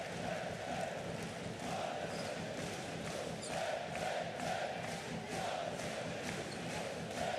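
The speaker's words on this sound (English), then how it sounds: "I think what they're singing in the crowd is, if you're not jumping up and down, you're not Bosnia and Herzegovina" Basketball crowd at a Bosnia and Herzegovina home game chanting in rhythmic waves, a dense, distant roar of many voices with regular pulsing swells.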